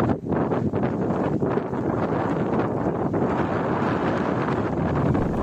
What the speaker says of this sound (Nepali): हावा हेर्नुहोस् यति धेरै चलिरहेको छ